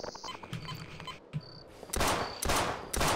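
Gunfire in the video game They Hunger: after a quiet stretch with a few faint clicks, loud broadband bursts of shooting erupt in repeated volleys, close and harsh, filling the last second and a half.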